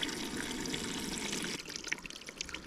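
Lukewarm water pouring into a roughly 10-litre bucket outdoors, a steady close rushing splash that shifts to a lighter, bubbling fill near the end.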